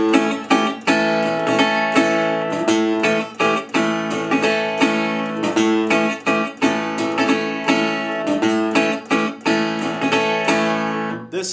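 Acoustic guitar plays the country-style rhythm figure from a Delta blues song, a steady, evenly strummed pulse with bass notes and chords repeating throughout, close and clear with no voice.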